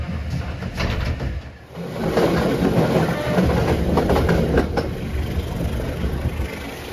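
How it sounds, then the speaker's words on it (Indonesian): The Kahuripan economy train rolls through Solo Balapan station, heard from inside as a loud steady rumble with rhythmic clattering of wheels over rail joints and a brief dip near the start, no voices. "Kereta api Kauripan sekarang melintas langsung di stasiun Solo Balapan"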